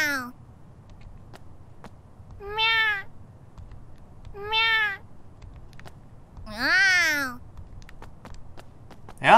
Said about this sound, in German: Ach, die beiden quasselnden Katzen wieder